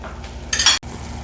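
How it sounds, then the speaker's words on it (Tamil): Tomatoes with garlic paste sautéing in a pan, a steady low sizzle with a brief louder burst of frying hiss midway, then a short dropout before the quiet sizzling resumes, with no talking. "இது நல்லா இந்த தக்காளியெலாம் கொஞ்சம் நல்லா வதங்கட்டும்"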